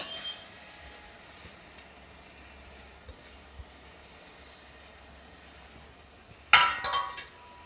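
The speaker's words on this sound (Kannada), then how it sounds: "ಇವಾಗ ಸ್ವಲ್ಪ ಕುದೀತಾ ಇದೆ" Drumstick and lentil soup with grated fresh coconut simmers in a pot, giving a soft, steady bubbling hiss at low volume before a brief louder clatter near the end.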